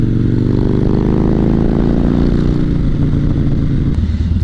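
Harley-style motorcycle engine, loud and close, running continuously with a deep throbbing idle that revs up and settles, steady rumble throughout with no talking.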